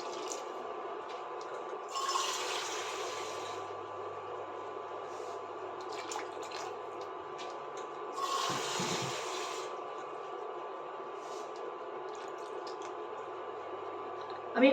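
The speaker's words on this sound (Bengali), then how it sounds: "এবার এতে দিয়ে দেবো আমি 3 কাপ মতো জল।" About three cups of water pour into a cooking pot for aloo posto in two short splashing bursts, each a couple of seconds long, between quieter stretches of faint kitchen clatter.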